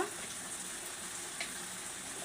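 Spices frying one by one in a hot pan of oil for cooking beef tripe, a steady close sizzle running throughout with no talking.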